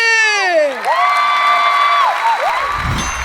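A television studio audience on the Thai game show The Celeb Wars cheers for team A, with high whooping voices and crowd shouts rising and falling, loud and close throughout.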